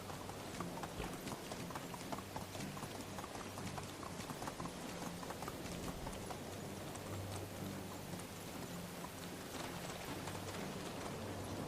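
A horse gallops at speed in the medieval life-sim game Medieval Dynasty, its hooves making a fast, steady clip-clop that runs the whole time over a constant hissing rain-like background, with no voices.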